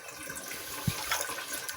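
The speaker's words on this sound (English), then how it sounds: "So I fill up this area with water, stick my finger in there, and let it run out." Water is poured into the cavity of a gutted roasting chicken and drains back out, a quiet splashing trickle with one brief low gurgle partway through and no voices.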